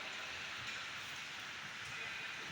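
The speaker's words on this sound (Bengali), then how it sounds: "আর বৃষ্টি কিন্তু সেই 10টা থেকে যা ধরেছে মুষলধারে" Heavy, steady rain pours down in Kolkata during Cyclone Remal amid gusty winds, a dense continuous hiss filling the whole stretch at even loudness, with no voices heard.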